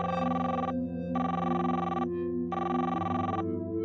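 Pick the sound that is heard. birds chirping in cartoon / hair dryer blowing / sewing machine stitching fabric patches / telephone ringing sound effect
telephone ringing sound effect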